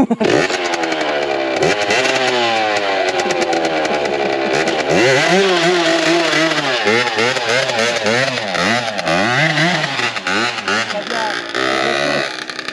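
A Yamaha DT 90 two-stroke motorcycle engine runs loud and close, revving up and down in rising and falling sweeps with a raspy, buzzing tone, while people talk over it.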